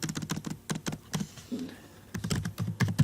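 Rapid clicking keystrokes on a computer keyboard, close and crisp, in quick uneven bursts with a brief pause midway.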